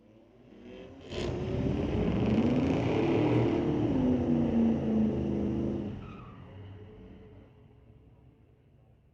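A 2023 Porsche and a 1996 GMC Jimmy launch side by side in a drag race at Mission Raceway Park, engines roaring loud and close as they accelerate hard, the sound swelling then fading away over several seconds.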